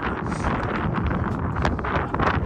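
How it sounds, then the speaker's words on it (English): Strong wind gusts buffet the microphone outdoors by train tracks in Los Angeles, a loud continuous roar with rustling bursts throughout and no talking. "it's so windy"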